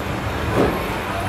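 A Northern Railways passenger train slows to a halt, a steady broadband rumble of wheels and carriage noise heard from inside, with a brief swell midway and no clear squeal.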